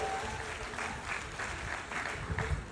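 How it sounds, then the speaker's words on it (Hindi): Enthusiastic applause from an audience at an award gathering, brisk clapping that swells and dips over a few seconds with faint voices mixed in. "एक बार जोरदार तालियां आप सभी के लिए"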